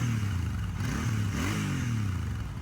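Royal Enfield Super Meteor 650 motorcycle engine revving up and settling back, a loud, close, steady low rumble with rising and falling pitch sweeps and no talk.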